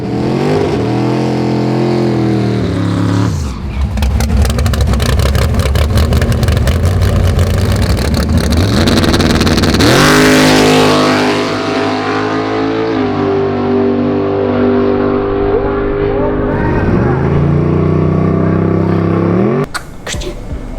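A drag race car launches and accelerates hard down the track, its loud engine roaring through rising revs and gear changes, then dropping back toward a steady drone, close and dominant with no talk.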